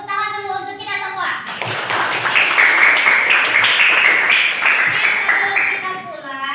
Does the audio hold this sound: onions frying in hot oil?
no